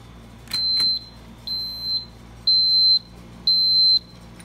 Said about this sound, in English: With the alarm.